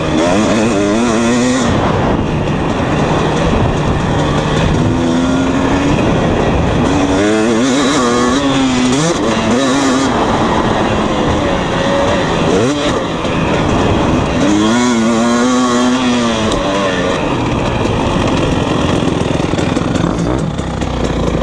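A 2020 KTM 250 SX dirt bike rides and jumps, its two-stroke engine revving up and down in loud, continuous bursts with rising and falling pitch close by, with no talking.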